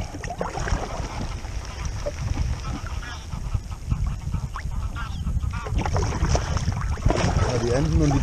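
Geese honking on a lake beside a kayak campsite near Timmendorf, with repeated calls scattered through a steady outdoor wash of water and wind, growing somewhat busier toward the end.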